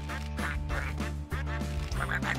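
Cartoon duck quacks from the Nickelodeon All-Star Brawl video game sound in a quick run of repeated nasal quacks over a game music bed.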